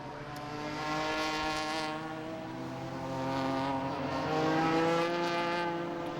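BMW race cars pass at Brands Hatch during a championship race, a continuous layered engine roar with several cars rising and falling as they sweep by at a moderate distance.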